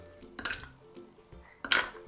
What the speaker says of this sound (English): Some ice cubes.